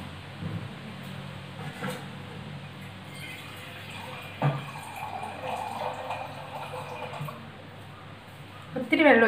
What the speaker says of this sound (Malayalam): നമുക്ക് ഇതിനകത്തേക്ക് അരിയുടെ ഉഴുന്നിൻ്റെ ഒപ്പം നേക്ക് വെള്ളം ഒഴിച്ചു കൊടുക്കാം.